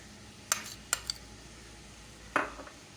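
A spoon stirs semolina into full-cream milk in a pot, making a few sparse metallic clinks and short scrapes against the pot, close and quiet, with pauses between them.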